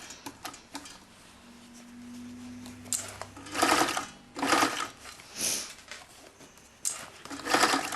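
A sewing machine stitches a skirt in repeated bursts of fast rhythmic whirring, close and fairly loud, separated by short pauses and small clicks.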